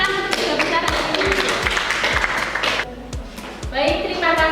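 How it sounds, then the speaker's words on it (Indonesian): A classroom of students claps for the top three students, a lively burst of many hands applauding with scattered thumps, pausing briefly before picking up again. "Kita beri tepuk tangan untuk tiga besar ini."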